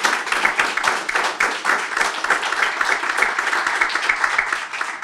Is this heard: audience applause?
yes